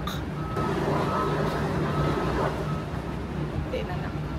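A truck's reversing alarm beeps steadily and fairly loudly as the truck backs onto a roll-on roll-off ferry, over a constant engine and ambient rumble with faint background voices.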